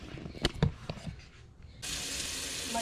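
Cold tap water gushes steadily into a container, starting abruptly after a few soft knocks and clatter and continuing as a loud, even rush.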